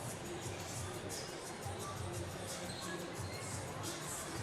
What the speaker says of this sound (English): Big crowd in tonight.